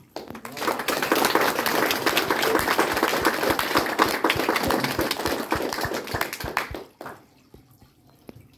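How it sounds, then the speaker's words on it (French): A crowd applauding steadily for several seconds, dense clapping from many hands that stops abruptly, leaving quiet room tone. "Je pense qu'on peut les applaudir."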